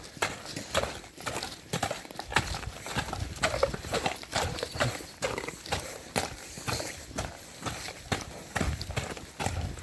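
Steady clip-clop of horse hooves on a hard surface, a quick even rhythm of sharp knocks, fairly close, with faint background noise.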